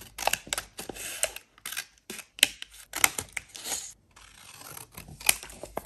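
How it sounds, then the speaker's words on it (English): Scissors snipping through the flap of a paper envelope, a close series of short crisp cuts and rustles with brief pauses, no talking. "So I'm just going to cut this part down."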